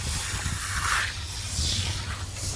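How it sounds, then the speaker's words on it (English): A steady hiss of foam cleaner being sprayed onto an old car's radiator fins, continuous and close, with a low rumble running underneath. "now all we do is just spray those fins"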